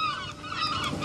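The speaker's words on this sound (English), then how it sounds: "Oh my god, look at the seagulls." Several squawking seagull calls overlap in a brief, busy burst of bird cries close by, at sea cliffs in Devon.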